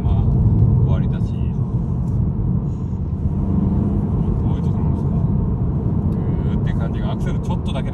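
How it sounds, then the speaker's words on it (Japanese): Toyota GR86 driven on the road: a steady engine and road rumble rising gently under acceleration, with a person speaking over the drone throughout. "アクセルちょっとだけでもギューッと加速するようになったわけ"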